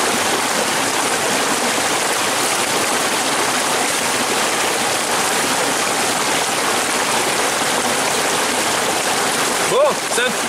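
Gerber LMF 2 knife held in running water, a continuous rushing, splashing stream close by, loud and steady, with a brief louder splash near the end.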